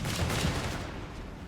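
A flak half-track opens fire in Company of Heroes 3, a dense, rapid burst of gunfire that stays loud and steady for a second and a half before easing off slightly.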